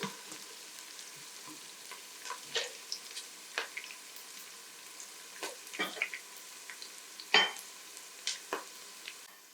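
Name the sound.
onion frying golden in a pan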